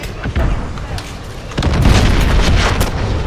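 Gunfire and heavy explosions from the video game Call of Duty Modern Warfare boom close and loud in dense, overlapping bursts, growing heavier halfway through.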